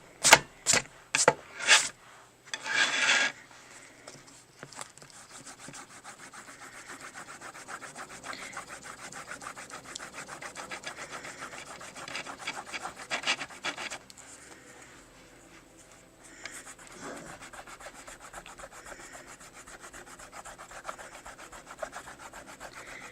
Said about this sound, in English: let's erase the pencil lines on Egwene